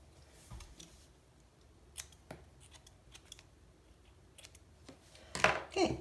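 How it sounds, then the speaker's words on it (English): A few quick, crisp snips of scissors cutting yarn against a quiet background, with a louder cluster of rustling cuts near the end. "I'll cut that off. I have my scissors here"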